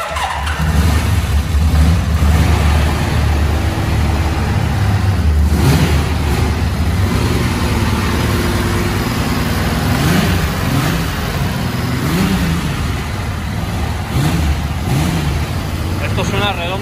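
A Honda CBX 1000 motorcycle engine runs after more than 20 years standing, a loud close mechanical drone with uneven revving swells throughout, while people talk over it.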